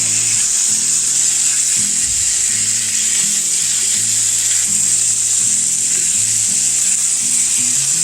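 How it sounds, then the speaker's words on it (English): Ground beef, slightly frozen in the middle, browning in a pan: a loud, steady sizzle that runs the whole time, with no talking. "So we're going to brown this meat up."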